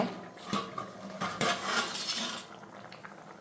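A lid coming off a pot of chicken curry on a home stove, with a few metallic clinks and clatters of cookware, the loudest scrapes in the middle, then a fading hiss.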